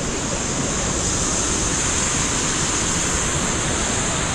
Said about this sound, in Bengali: এই দিক দিয়ে এইরকম স্পিডে জল বয়ে যাচ্ছে